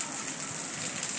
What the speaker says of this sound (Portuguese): já começou a chover agora, nesse exato momento, na cidade